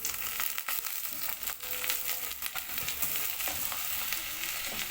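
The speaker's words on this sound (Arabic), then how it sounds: "هنا بقى البصله اتحمرت هنزل عليها بالرز." Rice poured into browned onions in a frying pan, giving a loud, steady sizzle and fry with scattered crackles and stirring scrapes throughout, close up with no talk.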